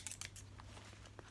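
Scissors cutting through the spine of a magazine, a few quick close snips and crinkles of paper, quiet and brief with no talk.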